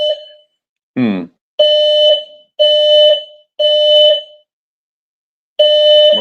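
A building fire alarm blaring in repeated harsh tonal blasts, four in a row with short gaps, then a pause before another, plus a brief separate chirp-like sound near the start.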